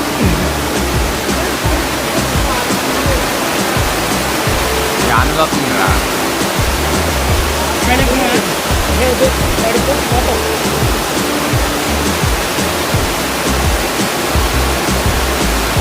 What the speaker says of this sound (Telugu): ఈ వాటర్ ఫాల్స్ కనిపెట్టడానికి మేము చాలా కష్టపడ్డాం